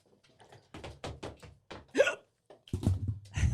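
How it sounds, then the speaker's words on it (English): Hiccups follow eating a Paqui One Chip Challenge spicy chip: a person lets out a series of sharp, close hiccups, several with voiced gasps and groans between them. "got the hiccups."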